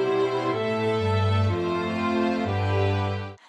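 A chordal string arrangement with the cello walking a bass line through passing notes, sustained low notes moving stepwise under held upper harmonies for a few seconds before fading out.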